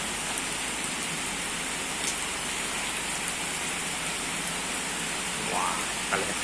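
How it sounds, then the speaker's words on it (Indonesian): Steady rain falls on an uphill road at Simpang Tugu Merah Putih, a constant close, even hiss with no voices over it. "Hujan-hujan lewat"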